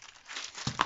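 Scissors cut through a paper sewing pattern to close a side dart on a princess-dart dress pattern, a soft crinkling rustle rising into a couple of sharper crisp snips near the end, close and quiet.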